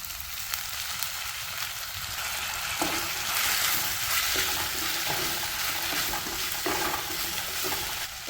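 Chopped tomato added to softened shallots frying in a pan for a mushroom curry, a steady, close sizzle broken by several scraping stirs of a spatula.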